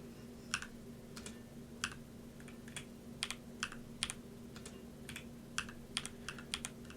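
Keys clatter at an irregular pace on a Razer Azoth computer keyboard, with crisp separate clicks and short bursts over a quiet room hum.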